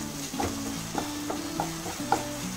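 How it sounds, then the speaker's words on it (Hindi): Tomatoes with a pinch of salt being stirred in a pan for prawn curry: a spoon scrapes and knocks against the pan in several uneven strokes over a soft, steady sizzle, close by. "सबको अच्छे से मिक्स कर लेंगे।"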